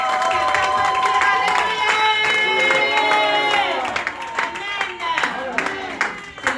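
A church congregation applauding and shouting in praise for the king of glory, dense sustained clapping with cheers and voices, thinning into scattered claps and calls toward the end.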